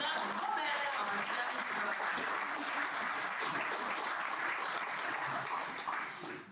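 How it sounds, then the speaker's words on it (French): Warm audience applause welcoming two chefs onto the stage at a televised evening event, a dense, steady clatter of many hands filling the room, loud and sustained before easing slightly at the end. "Sous vos applaudissements, je vous demande d'accueillir chaleureusement Jean-Philippe Wattheim et Bernard Mommer."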